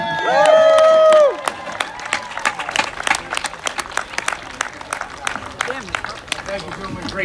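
An audience claps and cheers after a Juneteenth performance. A loud sustained vocal cheer opens it, followed by dense, sharp clapping that continues steadily throughout.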